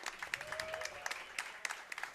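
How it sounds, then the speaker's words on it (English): Live audience at a brewery broadcast on Senate Ave. claps in a steady burst of applause, moderately distant, with scattered sharp claps standing out and faint voices underneath. "So give him a round of applause."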